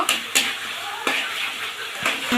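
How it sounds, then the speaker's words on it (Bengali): Spice paste with four or five green chillies sizzles in a pan while a utensil stirs it, giving four distinct scraping clanks against a steady soft frying hiss. "আমি এর ভেতরে দিয়ে দেবো চার পাঁচটা কাঁচা লঙ্কা ফেলে না এমনি সুন্দর করে মশলাটা একটু কষে দেব"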